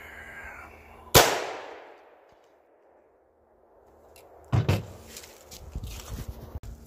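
A 10mm pistol fires a single sharp shot of Underwood Extreme Penetrator ammunition, a 140-grain solid copper load, outdoors. A loud crack rings out and decays, followed later by softer thumps and rustling.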